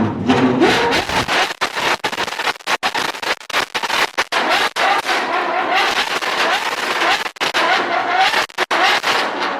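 A naturally aspirated 6.5-liter Ferrari V12 at a car meet roars loudly in repeated sharp revs, with abrupt cut-offs and crackling bursts between them.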